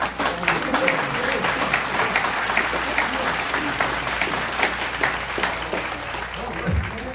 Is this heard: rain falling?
no